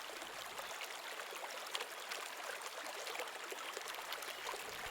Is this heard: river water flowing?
yes